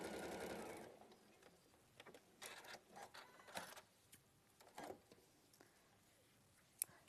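A sewing machine stitches small fabric pieces together, whirring steadily for about a second, then running in short, quiet bursts separated by soft clicks and pauses, faint and close.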